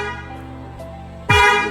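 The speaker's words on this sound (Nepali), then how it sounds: "सो यो चाहिँ तपाईँको हङ गर्छ" A BYD car's horn, triggered remotely from its mobile app, gives one short loud honk near the end after a quiet stretch, sounding alone and close by.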